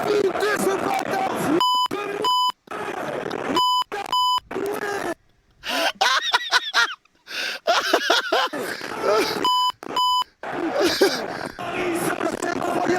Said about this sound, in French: Ça bip dans tous les sens. On dirait une voiture qui recule.